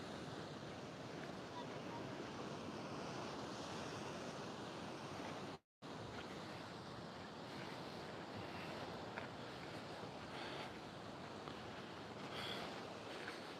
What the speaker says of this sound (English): Now listen to those waves.